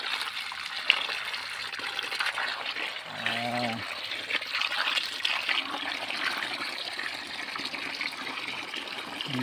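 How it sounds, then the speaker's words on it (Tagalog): Strong irrigation water flows and gushes steadily on a bitter gourd farm, a continuous rushing wash with someone briefly speaking over it. "So ito yung tubig namin dito, malakas ng tubig."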